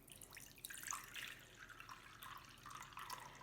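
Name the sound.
water slowly poured into a container with ice cubes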